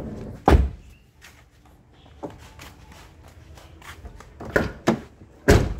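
The rear door of a black 2016 Isuzu Panther LS Turbo is worked, giving several solid thunks and a closing slam near and loud, with quieter handling noises between them and no talk.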